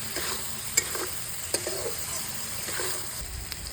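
Eggs in masala for egg curry being stirred in a pan, with a soft, continuous sizzle under a few sharp clinks of spoon against metal, close and quiet, with no talking.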